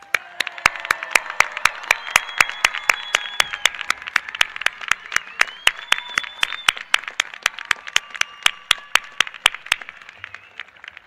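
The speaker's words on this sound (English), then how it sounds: "Another rousing round of applause for our graduates." Graduates receive a rousing round of applause at an engineering commencement ceremony: a sustained crowd of many hands clapping, with a few sharp, prominent nearby claps beating in a steady rhythm over it, fading out near the end.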